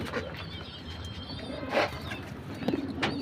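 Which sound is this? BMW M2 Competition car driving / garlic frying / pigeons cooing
pigeons cooing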